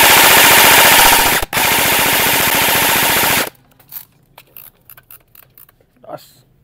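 An E&C 308 airsoft rifle fires on full auto in a loud, dense, continuous burst with one very brief break, then cuts off into quiet handling clicks and light noises.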